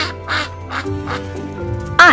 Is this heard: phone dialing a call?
no